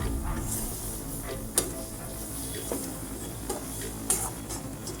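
Jaggery and ghee for sukhdi being stirred in a pan, a soft continuous scraping and faint sizzle broken by a few sharp taps of the spoon against the pan.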